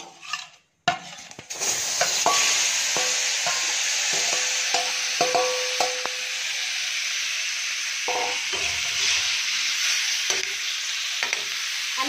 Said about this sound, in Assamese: এতিয়া আমি ইয়াত গাহৰিখিনি দিম।